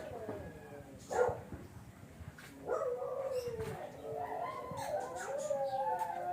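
Faint, distant dogs howling and whining in long wavering tones, with a few short yelps, over quiet background noise.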